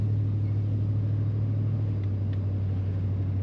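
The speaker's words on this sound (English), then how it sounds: "Just a slight rumble to the exhaust, the way it should be on these trucks." A steady low exhaust rumble from a 2000 GMC Sierra SLT 2500 Crew Cab 4x4 pickup truck hums continuously, smooth and close, with no voices over it.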